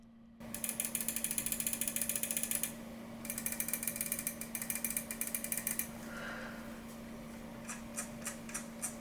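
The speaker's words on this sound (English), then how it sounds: "When it comes to the clicks of the mouse, let's do a quick sound test." Rapid runs of crisp, close mechanical clicks from a Lamzu Atlantis OG gaming mouse, fired in quick bursts with a short pause between runs, then slower, spaced single clicks near the end.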